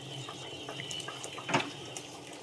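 Water poured into sour dal cooked with amra (hog plum), a short close splash and trickle into the pot that swells briefly midway, with no one speaking.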